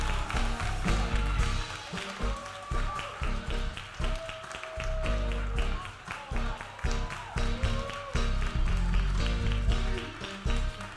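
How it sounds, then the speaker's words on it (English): Audience at a church drama ministry performance claps steadily and rhythmically, a dense roomful of hands filling the space, with some voices mixed in. "let us give our director, writer, and Beverly Hamilton a round of applause."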